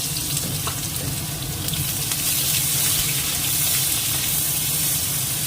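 Cumin seeds, bay leaf and chopped onion sizzling in hot oil, a loud, dense, steady hiss that holds throughout without a break.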